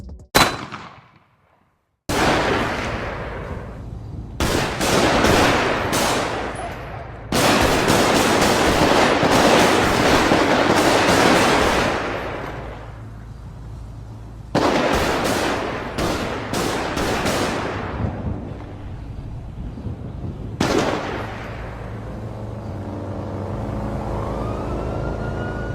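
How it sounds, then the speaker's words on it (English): Gunfire from a shooting in a GTA roleplay game, long loud bursts of rapid shots broken by short pauses, with a siren-like tone toward the end and no speech. "Lamar Whitefield, street name Scrap, would be arrested for a shooting that sadly took Rakeem Lewis' life, which was caught on a Ring camera"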